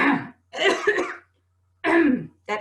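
Several harsh, throaty allergy coughs come in three separate bursts with short silent pauses between them, close and fairly loud, with no talking.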